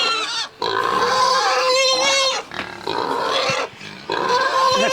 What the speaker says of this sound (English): So we got to feed our brood pigs. And our butcher hogs.